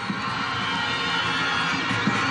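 Football fans cheer in a stadium during a Singida BS vs Simba SC match, a dense, continuous roar of crowd noise with scattered shouts, loud and sustained across the whole stretch.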